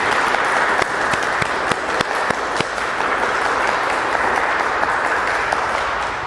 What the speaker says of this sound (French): on peut applaudir pour tout cela